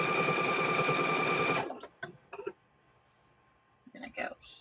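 A sewing machine runs steadily, stitching 3 3/4 inch fabric strips for quilt squares. The loud, even whir lasts about a second and a half, then stops and a person talks quietly.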